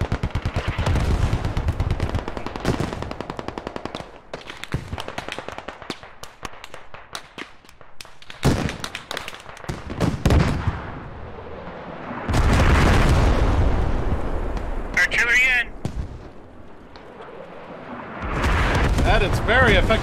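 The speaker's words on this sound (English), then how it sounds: "artillery coming in now" Artillery barrage explosions in the Squad video game, loud booms and cracking bursts arriving in several heavy clusters with gaps between them, some sharp crackles layered in, and voices talking between impacts.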